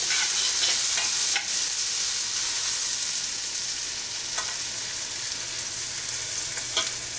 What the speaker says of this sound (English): I'm going to give these lemons a flip. And keep moving them around.